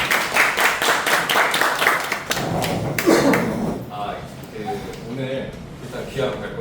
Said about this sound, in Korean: 우리 김선호 대표님 박수 한번 주세요